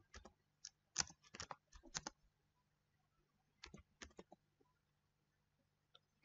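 Laptop computer keyboard being typed on, with short bursts of crisp, close key clicks in a quick irregular rhythm, then a pause and a few more isolated taps.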